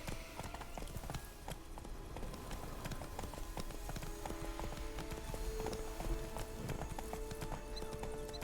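Horse hooves clip-clop steadily in The Witcher 3, a brisk rhythmic trot that stays even and fairly close, with faint in-game music and a whinny.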